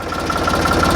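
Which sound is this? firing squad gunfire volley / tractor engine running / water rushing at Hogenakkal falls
tractor engine running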